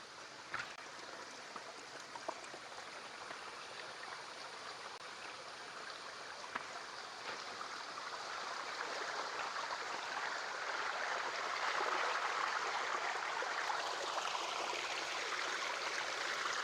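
A small hidden waterfall running slowly after little rain, a steady broad rush of falling water that swells slightly louder partway through, with no voices.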